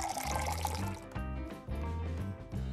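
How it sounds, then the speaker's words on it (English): Homemade bubble mix of water, dishwashing detergent and glycerin poured into a bottle, a steady liquid pour running for about three seconds over continuous background music. "Pour the mix in a bottle."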